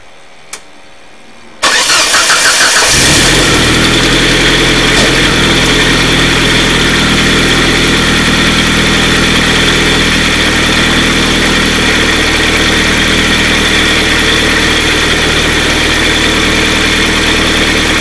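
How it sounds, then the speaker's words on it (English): A Ford Sierra Cosworth engine cranks after a moment of near silence, catches, and settles into a loud, steady idle that runs on with no talk. "the last thing to do is to start them up and see what they look like when they're spinning over"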